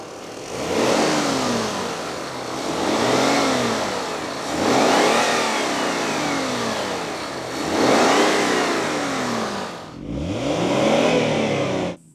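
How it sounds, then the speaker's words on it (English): A Honda Legend's Japanese V6 engine revs up repeatedly in smooth rising and falling sweeps, loud and close, with short pauses between each climb. "Please listen to the sound of the Japanese V6."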